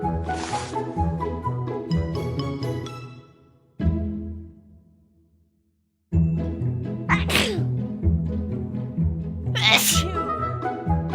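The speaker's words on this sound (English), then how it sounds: "Membership includes endless sneezing." Repeated loud sneezes from someone with allergies, several bursts in close succession with a brief quiet pause in the middle, then more sneezing, close to the listener.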